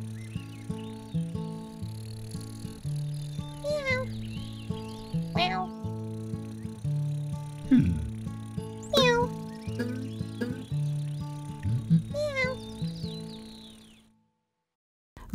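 Several kitten meows rise and fall over sustained musical tones, coming in short bursts spread across the clip, fairly clear and close.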